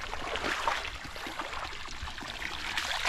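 Water flowing strongly in a fish pond on a farm, a steady close splashing rush with faint gurgling and no voices.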